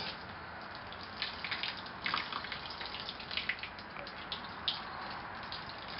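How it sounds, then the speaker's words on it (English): Gentle, steady spray of water from a watering wand falling onto eastern red cedar seedlings, a soft continuous hiss with faint droplet patter, low and close with no talking. "here's a little watering wand that I use. I turn it on, and I don't have very much water because I don't want much water"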